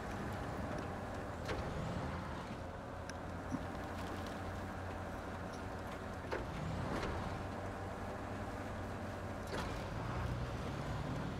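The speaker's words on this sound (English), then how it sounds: "So we got this pretty cool fire truck here with a big crane on it" In the Snowrunner video game, a fire truck with a big crane drives along with a low, steady engine drone, broken now and then by sharp knocks and rattles from the bouncing ride.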